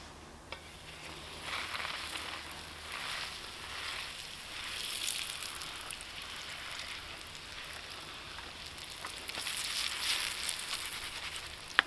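Bannock dough frying in a pan on a Trangia stove, a soft, steady, faint sizzle with gentle swells and a couple of small ticks, heard alone without talk.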